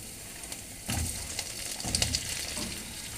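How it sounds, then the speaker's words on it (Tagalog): Garlic and onion sauté in a hot pan with eggplant, giving a continuous close sizzle broken by a few stirring scrapes and clinks, with no voices. "igisa na natin ang ating bawang at sibuyas"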